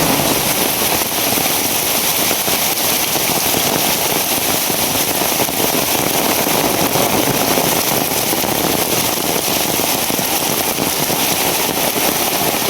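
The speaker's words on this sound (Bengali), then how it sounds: "কি পরিমাণ বৃষ্টি রে।" A heavy downpour beats steadily on nearby surfaces, a loud unbroken hiss and patter of dense drops with a faint low rumble underneath, with no voices.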